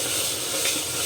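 Spices and chopped tomato fry in a pan, giving a steady, close, dense sizzle with no talk over it.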